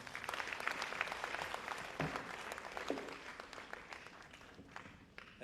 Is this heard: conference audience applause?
yes